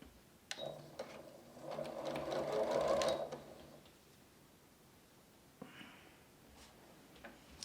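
A sewing machine stitches a quilt in short bursts of quick mechanical whirring and ticking, quiet and close, with gaps of near silence and small handling sounds between runs.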